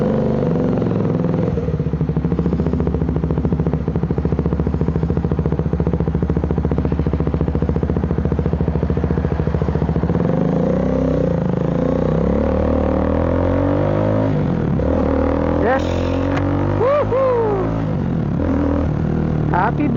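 A Triumph Speed 400 motorcycle idles and then rides off, its engine note shifting and rising through revs and gear changes, close and loud, with a brief clatter near the end.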